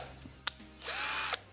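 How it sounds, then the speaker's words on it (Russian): A cordless combined drill and screwdriver with a built-in light gives a sharp click, then runs in one short, high whirring burst of about half a second, close by. "Это и дрель, и шуруповерт в одном,"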